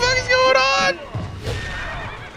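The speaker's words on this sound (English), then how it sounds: "Why was there a horse noise?" A horse whinnies loudly with a bright, quavering neigh for about a second in a Mortal Kombat MUGEN fangame, followed by softer game sound effects.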